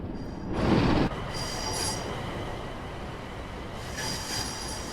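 A train departs a busy station in Train Sim World 6 with high, sustained wheel squeal over a steady rumble, swelling early, then settling into a continuous rolling roar with faint screeches returning.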